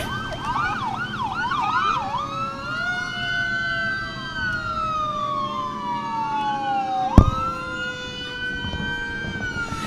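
Wailing police and fire engine sirens rise and fall continuously, several overlapping at once, loud and close, leading a Christmas parade in Patterson, with a brief sharp bang near the end.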